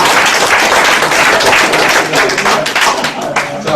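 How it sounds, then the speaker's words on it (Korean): Loud, dense applause from an audience, sustained clapping of many hands filling the whole stretch without pause. "보통 이 정도가 짠 데는 리액션으로 박수를 칩니다."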